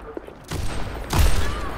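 Gunfire in a first-person shooter video game: a couple of loud bursts of shots, the second heavier and closer, with faint talk around them.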